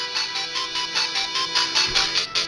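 A video game ringtone made with Audio Overload plays a bright, repeating chiptune pattern of rapid pulsing notes, steady and fairly loud on its own with no talking.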